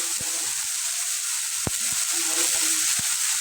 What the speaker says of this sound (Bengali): তেলটা গরম হয়ে গেছে তো আমি এর মধ্যে আদা রসুন দিয়ে দিচ্ছি